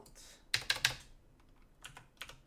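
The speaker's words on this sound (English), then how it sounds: "So let me type this one out." Fingers tap a computer keyboard during live trading, a quick burst of three crisp keystrokes followed by a few softer, scattered presses, close and quiet with no speech.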